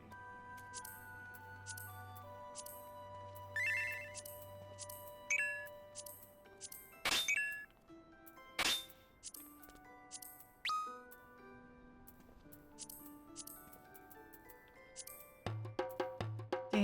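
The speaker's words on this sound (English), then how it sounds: "Notification sounds." Final Fantasy XIV notification chimes cycle one after another, a steady procession of bright dings, tinkles and bell-like tones with a few louder hits, clean and close with no talking.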